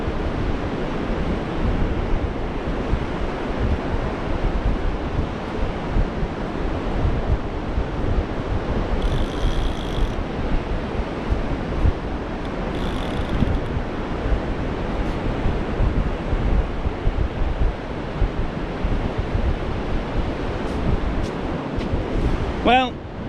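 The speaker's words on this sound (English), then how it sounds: "wind's died a tiny bit, so I don't have to shout now" Strong wind buffets the microphone and surf rolls in continuously on a beach at Silecroft during sea fishing, a steady loud roar throughout with brief faint high whistles.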